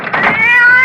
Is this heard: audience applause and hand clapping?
no